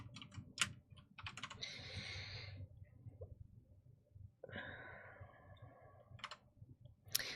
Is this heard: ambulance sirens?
no